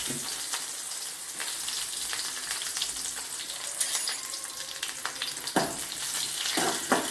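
Shallots sizzling in oil with popping mustard seeds and dried red chillies, a dense steady fry with scattered crackles and stirring scrapes throughout, nobody speaking.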